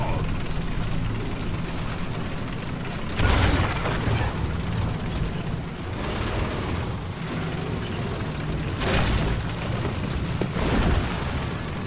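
Heavy explosions in the War Thunder tank game set in a Poland town map: several deep booming blasts land a few seconds apart over a constant rumble of engines and battle noise.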